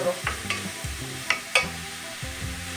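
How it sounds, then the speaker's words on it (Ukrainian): Onion and garlic sizzle and crackle in a hot pan while a utensil stirs and scrapes repeatedly, close up, with no voices. "І будемо цибульку підсмажувати до золотистого кольору."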